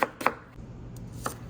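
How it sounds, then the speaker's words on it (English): Knife chopping onions and scallions on a cutting board, a few quick close thuds in two short bursts and a single later chop, with quiet pauses between. "we're gonna chop up some onions and scallion"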